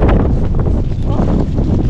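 Strong cold wind buffets the microphone in a loud, steady rush of low rumble and gusting noise, close and continuous throughout.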